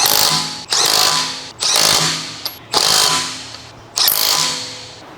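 An impact wrench with a 19mm deep socket snugs the rear wheel lug bolts on a 2015-2018 Ford Fusion, firing four loud, close rattling bursts of about a second each, separated by brief pauses.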